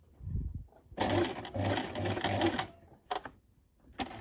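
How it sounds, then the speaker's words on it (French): Straight-stitch sewing on a domestic sewing machine, sewing a short 2 cm seam in dress fabric with a back-and-forth stitch; a few close, rhythmic bursts of motor whir and needle clatter separated by short pauses, with a soft handling thump at the start. "vous allez coudre ici les 2 cm au point droit"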